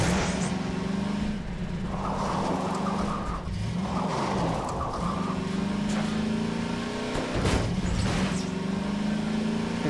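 A car engine in Half-Life 2 drones steadily and loudly, close up, with repeated revving swells and gear changes and no talk over it.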